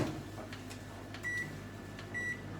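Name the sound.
microwave oven running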